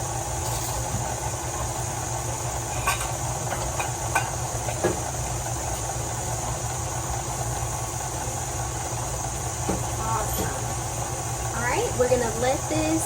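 An electric mixer whirs steadily through cake batter made from flour and milk, giving a constant humming drone with a faint hiss at moderate distance, while a voice speaks intermittently over it.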